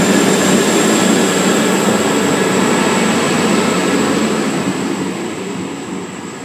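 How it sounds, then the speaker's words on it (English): A Sydney Trains service pulls out of Civic station in Newcastle, bound for Tallara: a loud, steady rolling rumble with a faint high whine, easing off slightly toward the end with no voices. "There's J1 leaving for a Tallara service."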